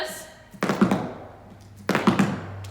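Tap shoes sound two quick clusters of cramp-roll taps with an uneven, syncopated rhythm, crisp close thuds and clicks with a pause between the groups.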